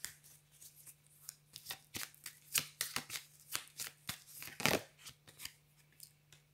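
Tarot cards shuffled by hand, a string of quiet, crisp riffles and slaps at an irregular rhythm, close and soft with no talking.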